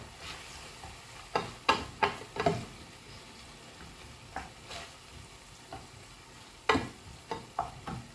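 Tuna pasta being stirred in a pan, irregular scraping knocks from a utensil in bursts and pauses, close and fairly clear over a soft background.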